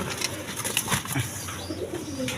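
Pigeons coo steadily in a loft as a female is released among them, with soft overlapping calls and a few brief wing flutters close by.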